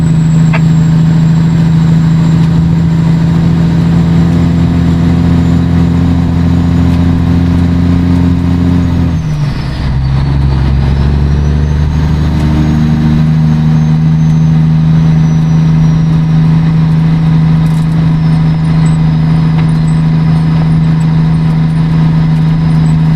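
A pin loader truck engine drones loudly and steadily at close range through snow and mud, dipping briefly as it shifts gear, then settling back into a constant rumble.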